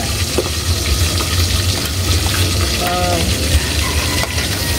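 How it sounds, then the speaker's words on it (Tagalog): Macaroni stirred in a hot frying pan, a loud, steady sizzle with scraping stir strokes and brief liquid splashes throughout. "Halu-haluin na po natin."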